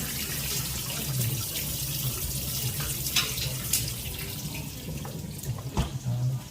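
Water runs steadily from a kitchen tap into a sink as washed chicken is drained, a close, continuous splashing rush with a few brief clatters, and no one speaking.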